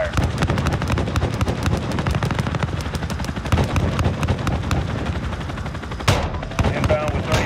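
Sustained rapid aircraft gunfire pounding ground targets in Call of Duty: Modern Warfare, a dense, loud, continuous rattle of automatic bursts with heavy low rumble, a sharper blast near the end, and faint radio-style voices underneath.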